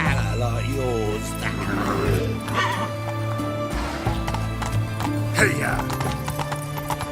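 Hooves of the horse Roach clip-clop steadily at a gallop in The Witcher 3 video game, with a neigh and a voice calling out over a constant music bed.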